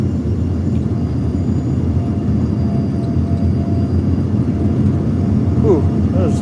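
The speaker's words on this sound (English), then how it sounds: "I hate when the plane goes up and then drops." A steady, loud low-pitched cabin roar inside a JSX plane in flight from Broomfield, Colorado to Las Vegas, continuous throughout with no talk.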